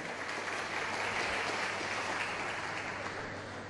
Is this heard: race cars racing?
no